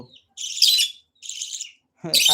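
A pet lovebird kept indoors screaming in three harsh, shrill bursts separated by short silences, loud and close, the last burst the roughest.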